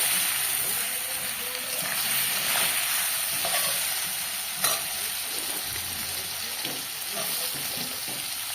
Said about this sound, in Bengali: নুন হলুদ দিয়ে আরেকটু নেড়ে চেড়ে নেব